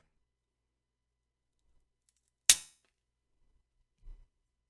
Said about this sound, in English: I can't not wait to cut this open and see what we have